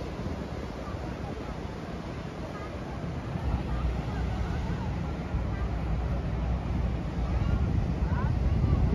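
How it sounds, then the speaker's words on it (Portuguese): Water rushing along the hull of the large container ship MSC Alghero, a broad steady hiss and churn that grows slightly louder midway, with wind buffeting the microphone. "Olha o barulho da água"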